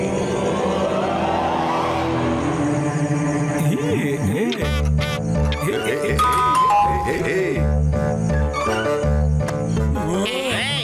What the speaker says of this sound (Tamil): தூங்கிக்கிட்டு இருக்கும்போது காலிங் பெல் அடிச்சது